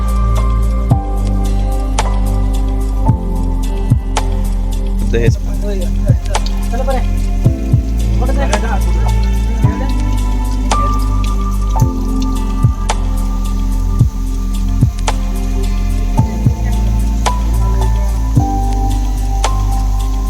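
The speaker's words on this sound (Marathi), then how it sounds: "जागोजागी अशी झरे वाहत आहेत हे बघा" Mountain spring water at Harishchandragad fort drips in loud, regular drops about once a second over a steady low drone, with one short spoken word partway through.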